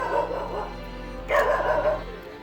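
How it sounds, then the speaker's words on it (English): A dog barks nearby, two short bursts of yapping separated by a pause, over a low steady hum. "I don't know why the dog is barking"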